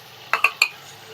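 A spoon stirs garlic ginger paste into frying tomatoes in a pan, giving three quick metallic clinks close up over a faint background.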